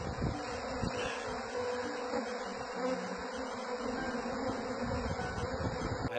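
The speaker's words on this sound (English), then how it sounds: "Most bees they're just protecting their queen." A swarm of bees in Texas buzzes in a steady, dense drone with no talk, close and continuous throughout.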